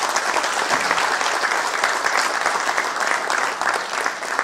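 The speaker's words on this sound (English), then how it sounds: "Give a big round of applause" An audience at PIMA Night 2019 in Dubai applauds in a thick, even wash of clapping that holds at a constant level from start to finish.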